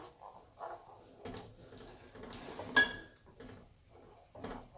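A spoon stirs and scrapes semolina roasting in a pan over medium heat for suji halwa, giving quiet, irregular metallic clinks and scrapes close by.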